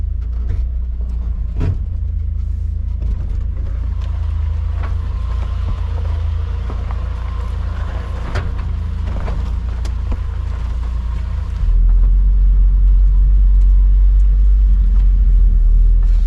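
A truck loaded with firewood drives slowly on a flat tire, its engine a loud, steady low rumble with occasional knocks and rattles, deepening into a heavier drone near the end; no one speaks.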